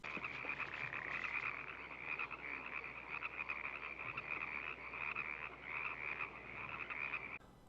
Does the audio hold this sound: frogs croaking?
yes